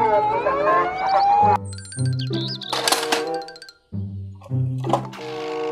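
Toy fire truck siren, a bright electronic wail with tinkling chimes and jingle tones, loud and close, with a brief drop to near silence midway before the toy sounds resume.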